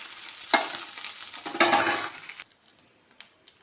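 Tempering spices frying in oil over a low flame for a raw coconut curd chutney: close bursts of sizzling with light clinks of stirring, which quiet down toward the end.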